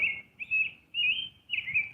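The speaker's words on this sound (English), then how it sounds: "That bird's kind of annoying." A bird sitting close by gives loud, shrill chirps in three or four bursts, each followed by a short quiet gap, with no talk over it.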